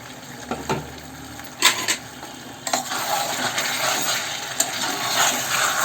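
Pre-fried potatoes go into a pan of chicken kassa, with a few metallic clinks and scrapes of a spoon followed by a steady close sizzle of frying.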